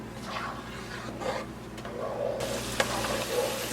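Butter bubbling and sizzling as it heats in a pot, a steady close crackle with an occasional stir or scrape, growing slightly busier toward the end.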